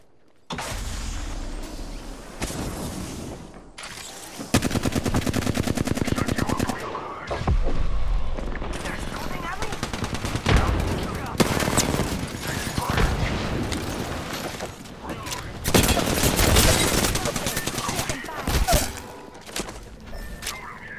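Video game firefight with repeated bursts of automatic gunfire and sharp single shots, some near and loud, others in broken clusters across the whole stretch, with brief quieter gaps between volleys.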